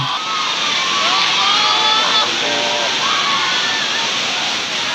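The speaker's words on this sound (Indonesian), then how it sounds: "Banjir bandang melanda kawasan ini akibat tingginya intensitas hujan di beberapa wilayah di Oku Selatan." Flash flood water rushing after heavy rain in OKU Selatan, South Sumatra, a loud continuous roar close by, with faint voices carried over the torrent.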